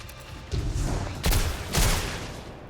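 Gunfire in the video game Destiny 2 in Trials of Osiris on the Burnout map, three loud bursts of shots at close range over a steady rumbling game background.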